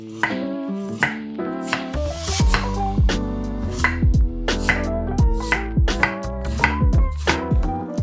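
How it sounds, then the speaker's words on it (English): Purple ube ice being shaved into fine shavings for Filipino halo-halo, made without an ice crusher. Loud, close, rhythmic scraping strokes repeat steadily with sharp attacks, and no one speaks. "shave the ube ice into fine shavings and add it to the bowl"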